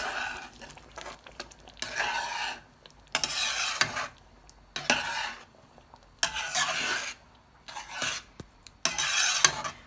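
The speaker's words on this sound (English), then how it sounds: "Once that's done, I'm gonna mix it." Fresh cream being stirred into butter chicken gravy in a pan, giving a series of bursts of scraping, rasping stirs separated by short pauses, close and moderately loud.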